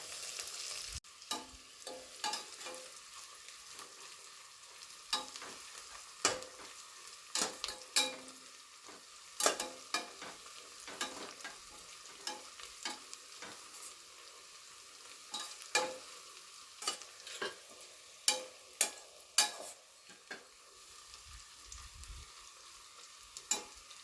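Onions and cashews fry in oil for chicken biryani, a steady faint sizzle broken by frequent scraping and knocking of a spoon against the pan, close and irregular, with no talking.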